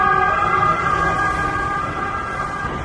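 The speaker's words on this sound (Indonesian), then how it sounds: "tau gak sih suara sirine gitu. Gak tau polisi, gak tau ambulan" An emergency siren, police or ambulance, wails steadily on a street in Rome, loud and close with a sustained multi-tone warble over traffic rumble, fading slightly toward the end.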